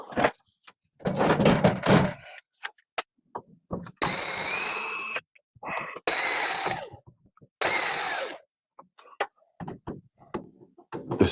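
A cordless drill whirs in three separate bursts of about a second each, loud and close. Clunks, handling knocks and shuffling noises fall between the runs.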